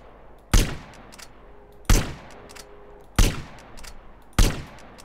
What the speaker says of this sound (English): And now I have a rifle. Score a few frags.